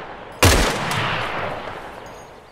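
A single loud, close gunshot from ARMA 3 cracks out and rolls into a long, slowly fading echo across an open slope, with no talk over it.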